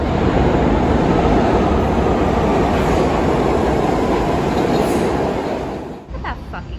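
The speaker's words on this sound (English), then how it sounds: "Freedom to have disgusting old subways that are inefficient." An old New York subway train rumbles loudly and steadily, its roar fading near the end as it slows or passes.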